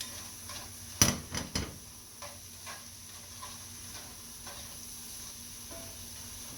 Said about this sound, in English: We're going to stir that up real good.